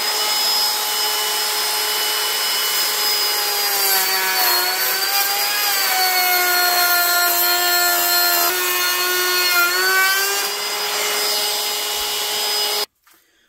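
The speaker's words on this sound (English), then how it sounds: "using the good old trusty palm router" A palm router cuts a wooden lamp edge with a loud, steady high whine that dips and rises in pitch as the bit meets the wood, running continuously for about thirteen seconds before abruptly shutting off.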